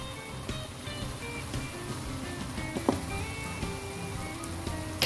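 Shrimp tossed into a hot pan for ginisang munggo with spinach give off a steady, close crackling sizzle that holds evenly for about five seconds at moderate loudness, with no talking.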